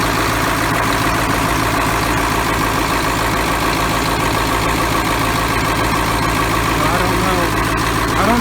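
A GM 8.2 diesel idles in a 1984 Ford F700 truck with a loud, steady, rumbling drone that holds unchanged throughout, close by, while people talk over it.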